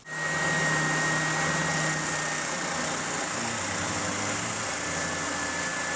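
A power sander works steadily on the back of a Telecaster guitar neck, taking the last half millimeter off; a continuous close, loud whirring drone with broadband grit that holds for the whole stretch, no talk.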